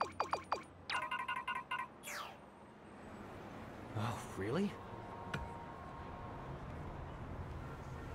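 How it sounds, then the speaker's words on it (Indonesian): A short chiming notification tone repeats quickly several times, followed by other game sounds and brief electronic effects during Street Fighter 6 gameplay, with background hum throughout. "Ada SMS lagi."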